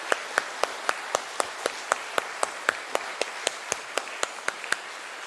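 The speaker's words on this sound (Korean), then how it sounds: "다시 한번 호산나 성가대에 큰 박수 부탁드리겠습니다." Scattered, fairly slow hand claps from a church congregation for the Hosanna choir at an Easter Sunday service, about twenty sharp claps spaced evenly at a moderate distance with no other sound between them.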